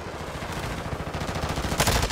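Rapid automatic fire from an ISO 9mm in a video game, with a steady stream of loud, closely spaced shots that grows heavier and denser toward the end.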